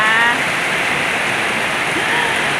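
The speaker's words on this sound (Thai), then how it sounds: "เสียงลมและฝนนี่แหละเนาะ" Steady rain and wind wash over a garden beside catfish cages, a loud, even hiss filling the whole stretch with no break.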